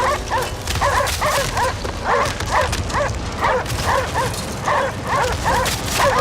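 Dogs in the video game Cryostasis bark and yip in a rapid, repeated volley of close, loud barks over a steady low rumble, sounding aggressive throughout.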